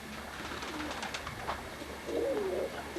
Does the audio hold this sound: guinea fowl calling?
yes